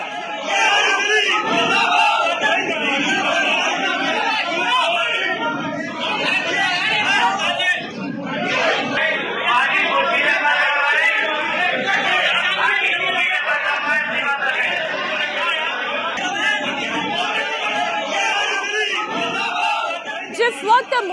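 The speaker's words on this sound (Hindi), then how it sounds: "जिस वक्त मुर्दाबाद मुर्दाबाद के नारे लग रहे थे" A protest crowd chants slogans against Congress candidate Danish Ali, a dense roar of many voices shouting together continuously and loudly, with chatter mixed in throughout.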